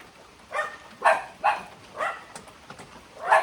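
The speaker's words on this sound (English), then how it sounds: "Sound like dogs to me." Five or six short barks from a dog at a distance, spaced irregularly over a quiet background.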